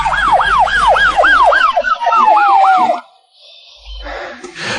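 Ambulance siren wailing loud and close in a rapid rising-falling cycle for about three seconds, then cutting off abruptly, followed by faint traffic and a short burst of noise.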